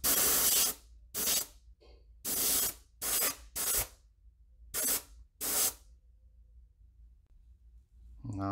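Short bursts of spray paint laying a pattern onto a wooden bonefish popper lure, seven close, loud hisses of uneven length with brief gaps, then quiet.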